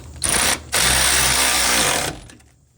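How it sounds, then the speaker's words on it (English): A ratchet spins rapidly while tightening a frame bolt on a Honda Element engine mount, two quick whirring bursts, close and fairly quiet, with no talk. "I'm gonna tighten it down again with my ratchet"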